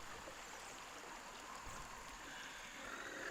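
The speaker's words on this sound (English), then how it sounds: "This one has got a beautiful little sort of creek here. You can hear." A small creek in the video game Log Away flows with a faint, steady babble and trickle. Nothing else is heard over the soft water.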